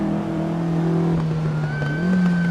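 A race car engine roars in the Assetto Corsa racing simulator game, holding a steady drone before climbing in pitch as it revs up through a shift. Close and continuous throughout.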